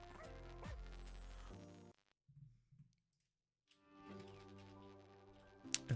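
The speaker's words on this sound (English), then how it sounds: "It's got a dog barking in it" A song with a dog barking in it plays: dog-like yips and whimpers sit within the music, which drops out briefly to near silence in the middle before resuming.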